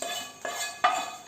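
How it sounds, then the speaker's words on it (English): A metal spoon clinks and scrapes against a pot while Ven Pongal is mixed, three separate strokes with the last one sharpest, close and fairly quiet. "Mix the pongal very well and let us have it served hot."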